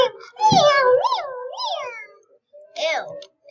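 A voice imitates a cat, giving several drawn-out meows with rising and falling pitch, loud and close, separated by short pauses.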